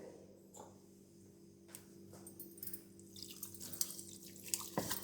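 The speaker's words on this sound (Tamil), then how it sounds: "கொஞ்சம் தண்ணி ஊற்றுறேன்." Water trickles and splashes into a cooking pot, starting light and growing into a busier, louder pouring with a hum underneath.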